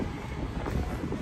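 Strong wind during a Las Vegas dust storm buffets the microphone in a constant low roar, loud and unbroken across the short stretch, with no voices.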